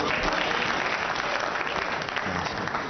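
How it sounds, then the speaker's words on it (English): Snooker crowd at the 2008 World Championship applauding steadily and loudly after a Ronnie O'Sullivan pot during his 147 against Mark Williams, a dense unbroken wash of clapping that fills the hall throughout. "Crowd are buzzing now"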